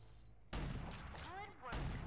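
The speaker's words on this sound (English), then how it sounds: "Yeah, I know how to fire a shotgun." A shotgun blast in the video game Rage 2 erupts as one loud, close burst, with a tonal game effect ringing after it and a second hit near the end.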